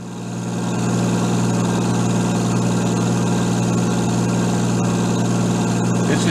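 A positive displacement rotary gear circulating oil pump, one per engine, drawing lube oil from the sump through a heat exchanger, runs with a steady, loud mechanical drone and hum that ramps up briefly at the start and then holds constant.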